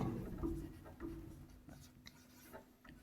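Chalk or marker scratching on a board as someone writes out an accounting heading during a Class 12 accounts lesson, with a quiet series of short strokes and rubs close by.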